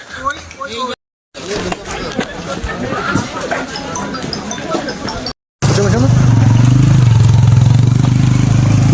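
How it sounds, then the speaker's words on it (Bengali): Motorcycle engines strain and rev loudly climbing a steep slope at Parasnath, Jharkhand, with clattering and voices; the roar swells to a sustained heavy drone near the end. "দেখতে পাচ্ছ বাইকগুলো কেমন করে চাপাচ্ছে।"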